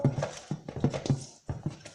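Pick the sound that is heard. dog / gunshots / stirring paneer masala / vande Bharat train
dog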